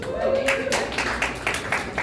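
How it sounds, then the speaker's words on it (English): A small comedy-club audience claps in a brief, uneven burst of applause, with voices mixed in underneath. "Give yourself a round of applause."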